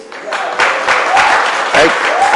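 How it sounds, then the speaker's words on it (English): Audience applause for a drummer at a civic calypso cultural event, a dense, steady clapping that swells after a moment and continues throughout, with a few voices mixed in. "Please give him a round of applause."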